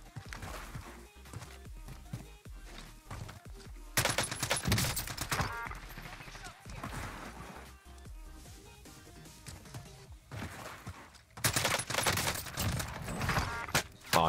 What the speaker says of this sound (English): now I'm getting shot out by these guys